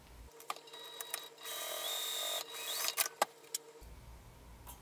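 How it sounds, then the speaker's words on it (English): Sewing machine stitching a divider line through the card slots of a clutch wallet: a steady mechanical whirr that runs for about three seconds, framed by a few sharp clicks and handling knocks before and after. "I just know that I'm sewing towards that clip just to separate these card slots."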